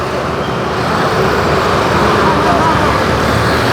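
Dense road traffic rumbles steadily through the streets of Aizawl town in North East India, a continuous loud wash of car, bus and truck engines with no horns sounding.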